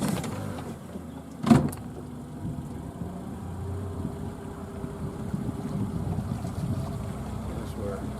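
A fishing boat is repositioned on the water in a constant low rumble with gusting wind noise across the microphone, after a brief thump early on.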